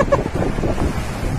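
Sea waves and gusting wind on a beach, heard as a rough, continuous roar with wind buffeting the microphone across a brief stretch.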